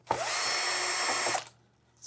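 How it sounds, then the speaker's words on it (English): A power driver spins a screw out of a Fender Deluxe Reverb amplifier chassis in one close, steady whirring burst of about a second and a half, then stops. "We don't know if these have been done, so we'll remove the screws."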